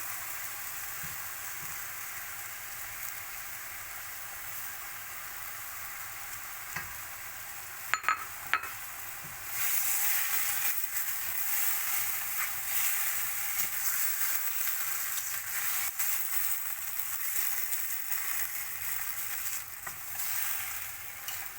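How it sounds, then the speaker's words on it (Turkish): Onions and Kanlıca (Çıntar) mushrooms fry in a pan with a constant hiss and crackle, interrupted by a few sharp scrapes of stirring; the sizzle swells louder midway and carries on steadily, with no voices. "Soğanımızı da döküp karıştırabiliriz. Birkaç dakika kavurduktan sonra."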